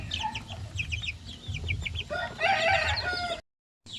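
Native Zampen chickens cluck and chatter in a pen, with a rooster crowing and brief high calls over a low farmyard hum, fairly near and moderately loud.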